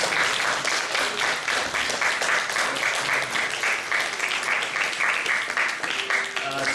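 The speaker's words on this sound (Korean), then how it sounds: "박수." Church congregation applauding at a Korean pastor's retirement and missionary sending ceremony, sustained dense clapping with a pulsing rhythm, loud and continuous, with faint voices underneath.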